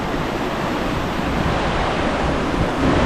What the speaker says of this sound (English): Bloody epic waterfalls everywhere.